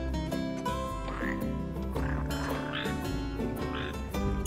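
A red frog croaks in Final Fantasy XV, a series of deep, throaty croaks repeating every half second or so over a steady tonal background.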